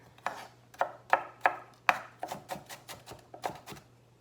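A knife chops food into small pieces on a cutting board for potato patties, about a dozen crisp, close strokes in an uneven rhythm, loud and alone with no talk.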